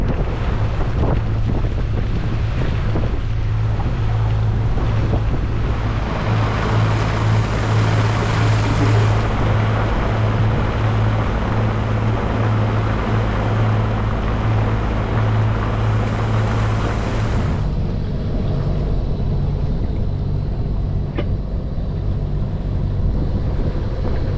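A boat engine drones steadily at sea between Union Island and Trinidad in the Caribbean, with heavy wind buffeting the microphone and water rushing throughout.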